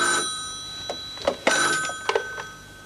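A telephone bell rings in short bursts in a French indoor scene, with a faint steady electronic hum underneath and no talking.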